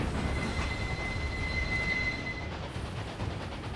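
Train rolling on rails in the Railway Empire game, a steady rumbling wheel noise with a faint high squeal for a few seconds, heard alone without talk.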